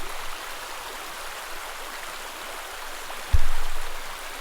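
Mississippi River headwaters at Lake Itasca, Minnesota, run as a steady broadband rush of shallow flowing water, ending in a sudden low thump or bump near the microphone.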